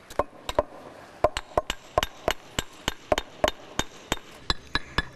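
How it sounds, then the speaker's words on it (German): Paving stones are set on a road construction site, with a steady series of sharp, close knocks and taps in an irregular rhythm as each stone is tapped into place, and no talking. "Während die Archäologen Knochen ausgraben, setzt ein paar Meter weiter Dominik seelenruhig Pflastersteine."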